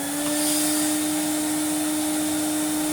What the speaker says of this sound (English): I'll give my wool rug a vacuum